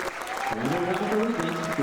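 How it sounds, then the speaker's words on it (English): A concert audience at the Heights High School midwinter concert applauds the students; the clapping sits under a voice that speaks or calls out through the burst. "So one more applause for all the students tonight."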